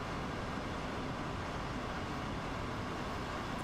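A passenger train in Train Simulator World 2 runs the Dresden–Coswig RE 18 route at rush hour, giving a constant, close rolling rumble throughout with no speech.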